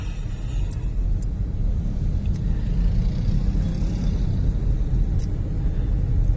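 Steady road traffic in a small town's downtown, with a continuous low rumble of passing cars and engines and a few faint higher clicks, heard without any talk.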